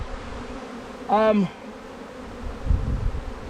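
Bees buzzing steadily around a new hive in April, a close droning hum throughout, with a man's brief spoken word over it and some soft handling noise.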